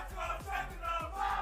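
A live esports crowd of super fans at a VCT Americas Valorant match cheers and chants in a loud, steady roar, with rhythmic thumps repeating about every third of a second beneath the noise.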